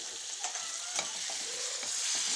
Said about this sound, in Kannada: ಇವೆಲ್ಲ ಎಣ್ಣೆ ಒಳಗೆ ಒಂದು ಸ್ವಲ್ಪ ಚಂದಕ್ಕಾಗಿ ಫ್ರೈ ಮಾಡ್ಕೋಬೇಕು